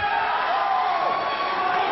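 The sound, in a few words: wrestling arena crowd reacting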